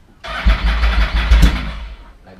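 A Yamaha R1 sport motorcycle engine fires up abruptly and revs in a few quick bursts, loud and close, then settles as the sound fades at the end.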